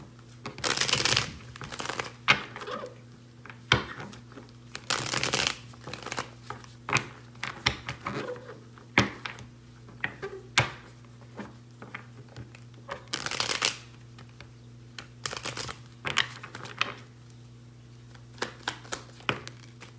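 An old-school deck of cards used for a tarot-style reading is shuffled in close, quiet, repeated bursts of riffling and slapping, with pauses between handfuls and no voices.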